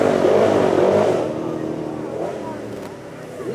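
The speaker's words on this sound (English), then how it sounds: "Listen to that heavy V8." Ultimate GTR supercar with a heavy V8 at a supercar weekend event, a loud rumbling engine note that fades as it pulls away, with voices mixed in.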